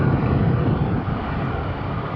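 A Honda CL500 motorcycle underway in stormy weather, a continuous engine hum mixed with heavy wind roar, steady and close throughout.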